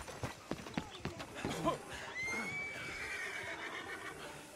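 Horse whinnying in Red Dead Redemption 2, a rising neigh following a flurry of hoof clatter and movement, moderately loud with some voice activity mixed in.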